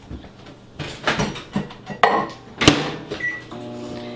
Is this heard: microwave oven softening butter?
yes